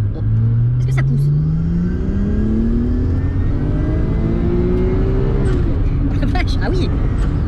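A Nissan Skyline R34 GTT engine revs hard while accelerating from inside the car, a loud climbing tone that rises steadily, eases briefly, then rises again, with people talking over it.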